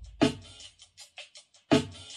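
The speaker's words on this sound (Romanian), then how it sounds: "am ales niște tobe care sună cam așa." A few sparse drum hits at 80 BPM: two strong booming beats with lighter clicks between them, alone and fairly quiet, at a slow tempo.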